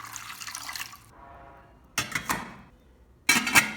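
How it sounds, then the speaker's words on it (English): Water is poured into a steamer pot before it is brought to a boil for steaming chestnuts, giving two separate close splashing bursts of liquid with quieter gaps between them. "Pour enough water into the steamer, then bring it to a boil over high heat."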